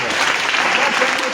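A congregation applauds to acclaim Jesus, steady dense clapping from a crowd, close and lively for a short burst.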